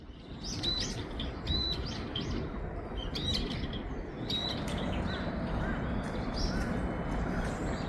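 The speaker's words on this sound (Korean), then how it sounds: "남산에는 특히 까치가 참 많습니다." Several short, harsh magpie calls ring out in bursts from a moderate distance on Namsan in Seoul, repeating irregularly over a constant outdoor hiss.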